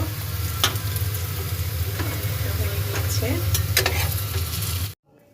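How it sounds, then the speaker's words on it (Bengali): Food fries in a pan with a steady, loud sizzle and crackle. A brief voice speaks over it, and the sizzle cuts off abruptly near the end. "এই যে হচ্ছে আমার ভাজাটা হয়ে গিয়েছে, আর এখন হচ্ছে আমি নামিয়ে নিব।"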